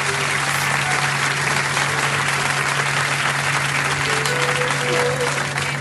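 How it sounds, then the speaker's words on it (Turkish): An audience breaks into loud, sustained applause at a radio station event, dense clapping that holds steady throughout with a low hum beneath. "Bizim de ünye halkımız alkışlarını gönderdi size."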